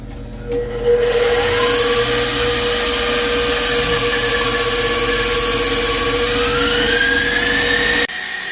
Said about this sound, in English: Now we're going to go ahead and raise our bowl and let the mixing begin.